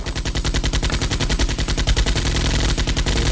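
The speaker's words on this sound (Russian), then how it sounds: "несколько крупнокалиберных пулеметов начинает включаться" Several heavy machine guns fire in a continuous loud burst, a rapid even rhythm of booming shots filling the whole stretch without pause, like a battlefield effect.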